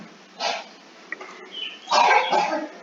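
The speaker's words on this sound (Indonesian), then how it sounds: "maaf, saya lagi batuk ini" A couple of muffled coughs close by, a short one followed by a longer, rougher one after a brief pause.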